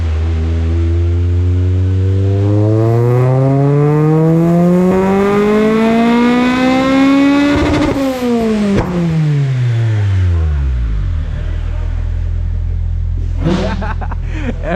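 A JDM Honda K20A four-cylinder in a DC2 Integra on a dyno climbs steadily from low revs to the limiter, stutters briefly there, then winds back down to idle; loud and sustained throughout.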